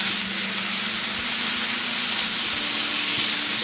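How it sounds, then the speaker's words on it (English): Habanero peppers sauté in a Kuhn Rikon frying pan, giving off a steady, close sizzling hiss that runs unbroken, with no voices over it. "So I'm just gonna saute this."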